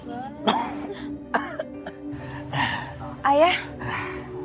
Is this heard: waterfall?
no